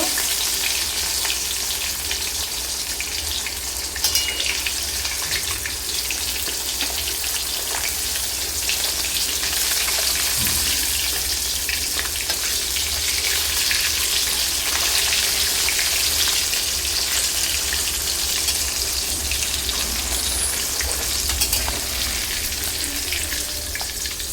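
Rohu fish pieces frying in oil in a pan, a loud continuous crackling sizzle that holds steady and close throughout, with no voices.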